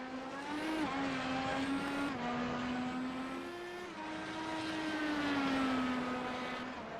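IndyCar open-wheel race cars in a sim racing game, engines droning loud and continuous with rising and falling pitch as they shift through gears, no voices over the steady roar.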